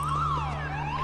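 An alarm siren wails in a prison-break scene of the film CrossFire (2020), a loud, steady tone sweeping up and down over a low, constant hum, with no voices.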